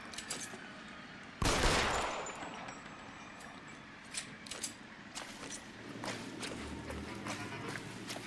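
Gunfire in the video game L.A. Noire: a sharp shot bursts out loudly, followed by scattered fainter pops, clicks and steps amid a low game backdrop.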